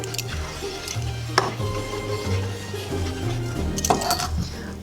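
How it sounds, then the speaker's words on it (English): A silicone whisk stirs gingerbread mixture in a pot, making soft repeated clinks and knocks against the pot with a low hum underneath. "So we're using a whisk, a silicone whisk, because that can withstand heat a lot"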